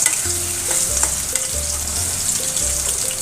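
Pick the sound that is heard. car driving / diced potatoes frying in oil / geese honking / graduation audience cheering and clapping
diced potatoes frying in oil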